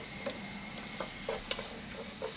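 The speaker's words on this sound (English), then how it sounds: "Once that melts down, we're going to add our onions. And you're just going to give it a good mix." Onions stirred in melted fat in a pan with turmeric and paprika nearby, a steady close sizzle broken by about half a dozen scraping stirs of a spoon.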